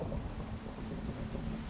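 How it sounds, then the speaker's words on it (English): Thunder rumbling in a video game, a low, continuous, fairly loud roll mixed with steady rain-like hiss, with no speech over it. "Oh, I don't like thunder."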